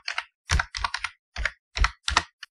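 Typing a file name on a computer keyboard: eight quick bursts of close, crisp key clacks in uneven rhythm, separated by brief silences.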